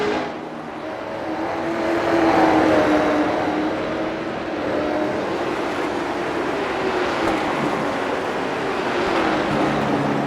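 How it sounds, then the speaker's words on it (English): Race cars roar around Martinsville Speedway in a loud, continuous engine drone. The pitch swells and shifts as the cars pass, and no voices are heard over it. "It's just the sound of the cars."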